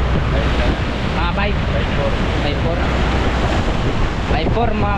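Pacific Ocean surf about six feet high washes steadily around a small boat while wind buffets the microphone, with voices talking faintly over the constant roar.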